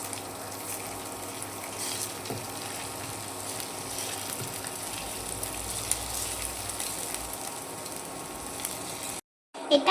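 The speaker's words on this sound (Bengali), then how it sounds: "এবার আমি খুন্তির সাহায্যে এটা নেড়ে নেব।" Chopped ginger, garlic and chilli sizzle in hot oil in a kadai, stirred with a spatula, giving a steady close crackling hiss that cuts off abruptly near the end.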